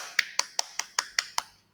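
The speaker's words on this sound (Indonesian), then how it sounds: "Yuk coba kita tepuk tangan buat kita semua." Group hand clapping in an Indonesian Quran lesson on Surah Al-Alaq: seven sharp, evenly spaced claps about a fifth of a second apart, close and crisp, then silence.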